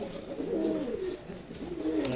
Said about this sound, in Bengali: মাশাআল্লাহ খুব সুন্দর কবুতরগুলো